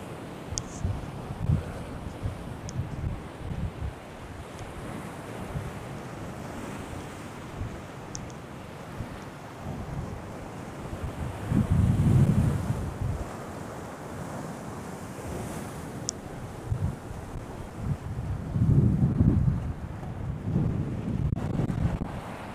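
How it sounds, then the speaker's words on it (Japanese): Sea waves crash and surge on a rocky shore on the Shimokita Peninsula in Aomori in cold winter conditions, a steady wash of surf with louder breaking swells around the middle and end, mixed with gusts of wind buffeting the microphone. "波がこうやってこうやってザバーンみたいな"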